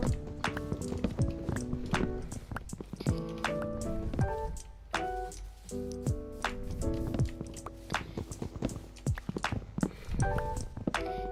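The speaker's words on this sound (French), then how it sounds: "pendant que je coupe du bois" Chopping wood in the Minecraft video game: repeated soft percussive block-hitting taps fall at an irregular rhythm beneath steady background game music.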